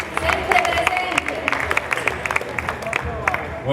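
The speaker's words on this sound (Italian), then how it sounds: "Peppe Ruggeri di Niceto TV Web, un applauso" An audience at a talk in San Pier Niceto bursts into lively applause, a steady patter of many close hand claps with scattered sharp slaps and a faint crowd murmur underneath.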